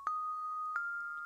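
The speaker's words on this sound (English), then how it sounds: "You can hear that first part of that bell like if somebody was striking it." A bell-like tone from a sampler in Logic Pro X struck twice, each hit with a sharp attack that settles into a steady ringing sustain, clear and alone.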